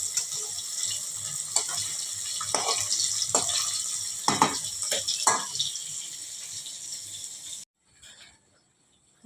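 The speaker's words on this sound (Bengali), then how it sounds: "ভাজটা শুরু হয়ে গেছে" Food frying in a pan in a home kitchen, a steady bright sizzle with scattered clinks and scrapes that cuts off abruptly near the end, leaving near silence.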